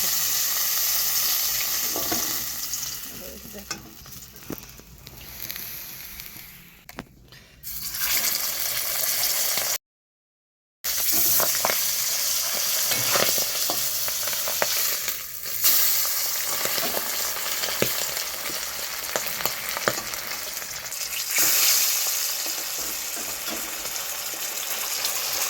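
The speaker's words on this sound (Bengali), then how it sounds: "আর মাছ ভাজতে গেলে ফোটে" Small fish such as tengra frying in hot oil in a pan, a dense continuous sizzle with sharp spluttering pops and crackles throughout, briefly cut to silence partway, with no talking.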